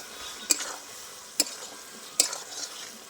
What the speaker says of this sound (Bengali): এক চামচ ঘি দিয়ে দিচ্ছি গরম মশলা গুঁড়ো দিয়ে দিচ্ছি একটু নেড়ে নেব